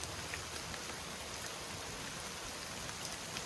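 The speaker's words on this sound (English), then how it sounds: "while exposing the bees to the rain" Rain falling steadily outdoors around an open beehive, a dense, even patter of drops hitting surfaces that holds at moderate loudness for the whole stretch, with no talking.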